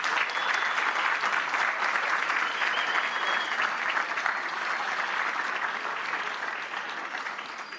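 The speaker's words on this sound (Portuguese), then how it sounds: "Uma salva de palmas, por favor." Sustained, dense audience applause fills the room to welcome the Podpah podcast creators at a Brazilian communication event, steady and loud before tapering slightly toward the end.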